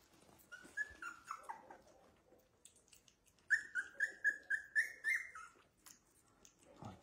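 Puppies about 17 to 20 days old whimper and yip at feeding time, giving thin rising whines in two bursts, the second a run of quick repeated cries, fairly close with little else around.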